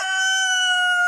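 A rooster in a barnyard gives a single sustained, clear crow, loud and near, with nothing else audible.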